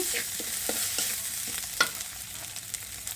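Cooked meat hits a pan with cut spices and is stirred and fried for noodles, a steady close sizzle punctuated by rhythmic spatula taps and scrapes roughly every half second, no talking.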